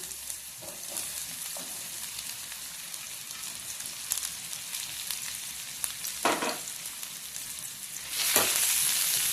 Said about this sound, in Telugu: మంచిగా ఫ్రై అయ్యేలాగా వేసుకుందాం.